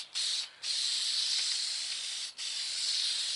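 Glue sprays from a wide-pattern spray can in a VW MK6 GTI air-suspension install, a steady close hiss broken by two short pauses between bursts, with no talk.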